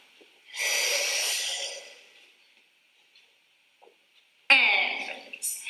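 Forceful breaths during a pilates exercise with a ball, a long breathy exhale lasting over a second, then silence, then a second sharp breath close to the mic.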